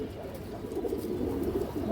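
A male pigeon of a Bengali fancy breed coos in a low, steady rolling call, close and fairly loud throughout the short stretch, with no talk over it.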